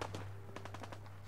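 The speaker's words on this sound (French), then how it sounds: "Donc là on entend déjà des coups de feu" Gunfire in the video game Fallout 4 crackles as a rapid series of sharp, evenly spaced shots, like a machine gun, heard alone over a steady low background hum.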